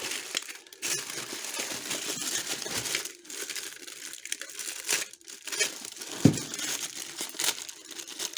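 A plastic packet, holding items bought at an online flea market, is torn open and crinkled close by. Steady crackling and rustling continues throughout, with a few sharper crunches and no talking.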